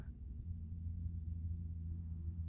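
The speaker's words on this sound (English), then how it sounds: "The engines will stop spinning." Boeing 787 engines spool down in a flight simulator, leaving a low, steady rumble that slowly settles, faint and muffled, with no voices.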